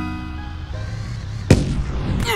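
Video game cannons fire with a sharp, loud boom about halfway through and a second blast near the end, set against a steady rumbling game background.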